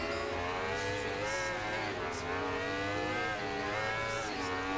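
Simulated Aprilia RSV4 1000cc V-engine superbike in the racing video game RIDE 2, a loud continuous high-revving engine tone rising and falling with gear changes and throttle, close and steady throughout with no talk.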